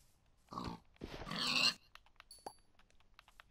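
Pig grunting in a survival video game, two short nasal grunts up close followed by scattered clicks and light game sounds.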